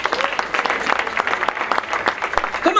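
An awards-ceremony audience claps in a dense, lively burst of applause, many hands close and fairly loud, with faint voices mixed beneath.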